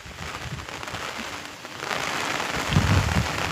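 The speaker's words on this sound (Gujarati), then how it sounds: "બહુ ભારે વરસાદ છે અને નુકસાન પણ ભારે છે." Heavy rain pours steadily over a castor crop field with flattened plants, a dense continuous hiss that swells louder toward the end, with no voices.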